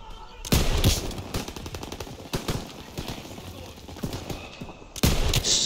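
Gunfire in a World War II video game: loud bursts of rapid automatic fire and sharp single shots in quick clusters, with someone talking excitedly over the shooting.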